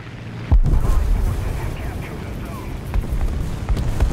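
Bombs dropped from a Hs 123 A-1 dive bomber explode on a ground target in War Thunder, one sharp heavy boom followed by rumbling engine and battle noise, with talk over it.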